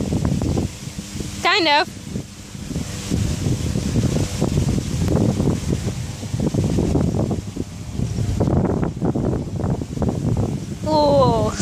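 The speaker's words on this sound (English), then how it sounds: "Wind." Gusty wind buffets outdoors during a flips session, a broad rumbling roar that rises and falls across the whole stretch, with brief voices and a short whistle-like squeal cutting through.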